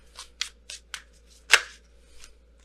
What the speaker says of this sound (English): All cards kept coming flipping out.